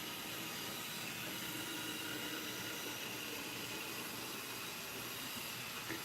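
A model train runs on a home layout, giving a faint, continuous squeak and rolling hiss that stays even for several seconds with no talk.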